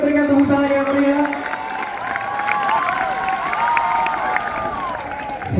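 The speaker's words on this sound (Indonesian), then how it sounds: "Boleh kita berikan tepuk tangan yang meriah." A school audience applauding at a pre-orientation event at a senior high school in Palangka Raya, a broad crowd clatter of clapping mixed with chatter, while a voice over the PA talks over it.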